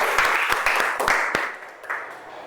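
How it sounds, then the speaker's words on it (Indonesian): Audience applause from a university classroom group presentation session, a burst of loud, uneven clapping with sharp individual claps that thins out and fades over a couple of seconds. "Ayo kasih tepuk tangan."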